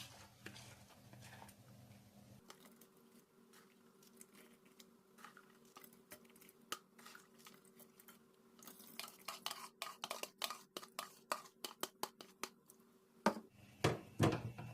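Ingredients for sticky rice with beans go into a rice cooker pot, with quiet scraping and stirring followed by a run of sharp, irregular clinks and taps of a utensil against the pot, growing louder toward the end.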